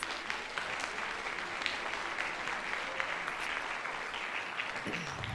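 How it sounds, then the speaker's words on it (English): Steady applause from a large audience at a high school band winter concert, dense clapping sustained throughout at an even level with no voices. "please give them a round of applause for everything they do for us"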